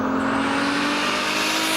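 A 2JZ-powered Toyota Supra with a single BorgWarner S366 turbo drives on a closed course in Canada, giving a steady, loud engine drone with no break and no talk.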